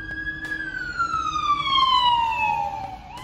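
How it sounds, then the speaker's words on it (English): An emergency vehicle siren passes along a busy road near a fire station, a loud sustained wail sweeping steadily downward in pitch as it goes by, with faint traffic rumble underneath. "you get to hear sirens all the time"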